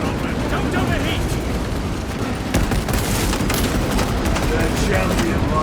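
Heavy automatic gunfire and explosions in the Warhammer 40000: Space Marine 2 video game, a dense continuous roar of rapid shots and booms with bursts of louder blasts midway, loud and close.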